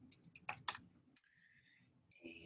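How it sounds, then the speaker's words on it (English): Several quick, faint keystrokes tapped on a computer keyboard, followed by quiet room tone and soft tonal sounds. "I will just type in the Cold War"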